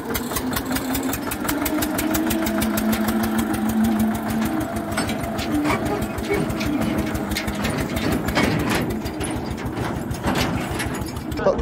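An Eicher 242 tractor engine runs in a village field, chugging with a fast, even rhythm of low knocks. A faint voice can be heard in the background.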